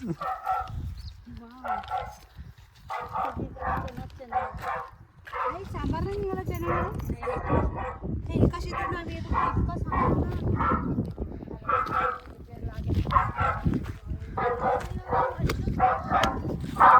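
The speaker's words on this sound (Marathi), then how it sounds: "कुत्रे दिसून नाही राहिले पण भुकून राहिले आहे" Dogs bark repeatedly at a distance in farm fields while people talk nearby over a rumbling background.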